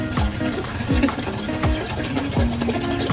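Water pours steadily into a pot, a continuous splashing fill with repeated gurgles and small knocks, close by.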